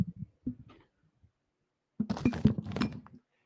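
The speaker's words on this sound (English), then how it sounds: "That was my cinnamon toast crunch." Cinnamon Toast Crunch cereal crunches loudly and close in a burst of crisp chewing, after a few soft thumps and a quiet pause.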